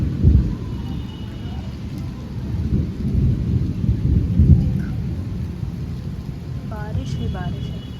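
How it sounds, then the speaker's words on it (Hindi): Steady rain falling during a thunderstorm in Kanpur, with a low rumble of thunder rolling beneath the downpour and a few faint voices and chirps near the end. "लेकिन यहाँ बारिश हो रही है।"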